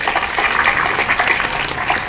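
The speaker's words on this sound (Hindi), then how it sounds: "करवार जोरदार ताली बजाओ।" Audience at a cooperative society meeting applauding loudly for the chairman seated on stage, a dense, steady wash of clapping that fills the whole stretch at fairly close range.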